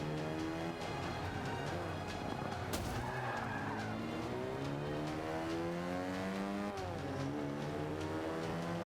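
Classic Mini racing in a video game, its engine droning and revving steadily with rising and falling pitch as the tires skid through a power slide, loud and continuous throughout.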